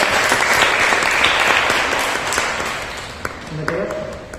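Loud sustained applause and clapping from a convention audience at CometCon 2020, filling the space continuously before tapering slightly, with a voice briefly heard over the end.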